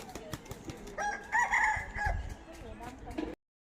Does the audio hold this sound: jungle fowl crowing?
yes